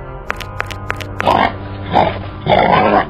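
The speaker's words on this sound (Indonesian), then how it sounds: "Suara babi dari mana itu?" A pig grunts and oinks in three loud, rough bursts in a sinetron comedy scene about snacks fried in pork oil, following several short sharp clicks and a steady low hum.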